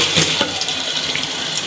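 Water from a cup is poured steadily into a pot of soaked rice, making a continuous close splashing gush with no talk over it.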